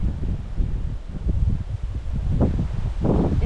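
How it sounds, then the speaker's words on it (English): Wind gusts across a hilltop lookout among rainforest and granite boulders on the Turtle Rock circuit, buffeting the microphone in uneven low rumbling surges with a faint rustle of leaves, loud and close. "It's nice and windy up here."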